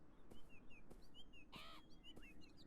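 Short bird chirps and tweets in the game Beyond Eyes: a few scattered calls plus one brighter warbling burst in the middle, moderately near, with soft ambient background and no talk.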